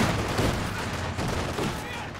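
Light machine gun fire in Company of Heroes 2 rattles as a dense, continuous crackle of battle noise, with other gunfire and effects mixed in and a voice talking over it.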